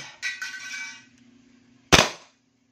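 Two sharp snapping shots from an EC Hi Capa airsoft pistol firing BBs, a lighter crack followed by a louder close pop about two seconds later, with quiet in between.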